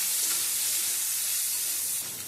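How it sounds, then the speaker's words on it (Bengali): Squeezed-out soybean chunks fry in hot oil in a pan, giving a continuous dense sizzle that eases slightly near the end, close and steady without any speech. "সমস্ত সয়াবিনগুলো একটু ভেজে নেব।"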